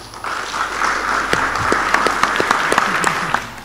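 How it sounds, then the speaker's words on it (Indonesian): Meeting attendees at a plenary session of an organization's board applaud together, a steady wash of clapping hands with a few sharper individual claps standing out, fairly close and continuous throughout. "Kita berikan tepuk tangan dulu"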